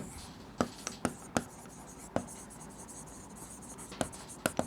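Chalk or marker writing on a board during a class 12 physics lesson on nuclei, heard as a handful of sharp, separate taps and short strokes against a quiet room, close and fairly crisp.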